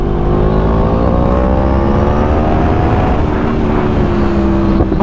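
A Yamaha R1 superbike's engine hums in a steady, close drone while riding, with a continuous, unbroken tone that rises gently as it pulls along.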